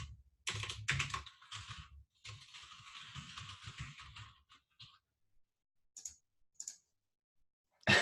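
Rapid clacky keystrokes on a mechanical keyboard come in quick bursts, then slow to scattered single clicks with pauses; close but quiet, with no talking.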